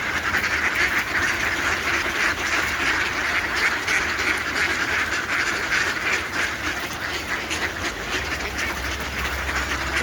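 A flock of ducks quacks steadily outdoors in cold weather, many overlapping calls forming a dense, continuous chatter at moderate distance.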